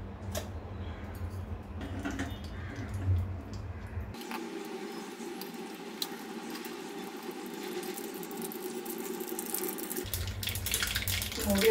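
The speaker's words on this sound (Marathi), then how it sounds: "मोहरी आपली चांगली तडतडली आहे." Mustard seeds spluttering in hot ghee in a small tempering bowl, making a steady, close crackling hiss that runs through the whole stretch without pause.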